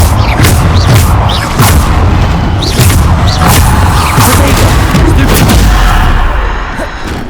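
Bombarda spell explosions go off in Hogwarts Legacy as a continuous loud barrage of booming blasts and crashes, one after another, with heavy low rumble throughout. They are near and overpowering, with no talking.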